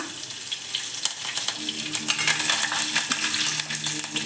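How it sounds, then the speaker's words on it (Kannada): Peanuts and curry leaves sizzle and crackle in hot oil for a tamarind rice tempering, a steady close frying hiss with sharp pops and scraping stirs throughout. "ಕಡಲೆ ಬೀಜ ರೋಸ್ಟ್ ಆದಮೇಲೆ ಮತ್ತೆ ಒಂದೆರಡು ಕರಿಬೇವಿನ ಸೊಪ್ಪು ಹಾಕ್ಕೊತಾ ಇದ್ದೀನಿ"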